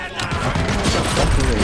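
Grenade blasts and gunfire in the RoboCop video game form a dense, continuous barrage of loud, crashing bursts that keep going without a pause.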